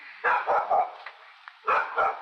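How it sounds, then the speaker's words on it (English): Dog at home barking at neighbouring dogs: two quick pairs of sharp, mid-pitched barks, close by, separated by a short pause with faint background noise. "now she's just barking at the neighbor dogs"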